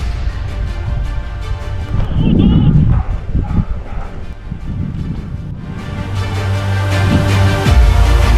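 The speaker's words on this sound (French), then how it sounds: "Les chiens mènent." Hunting dogs barking and yelping during a wild boar drive hunt, bursts of barks at a moderate distance amid outdoor rustle and some movement noise.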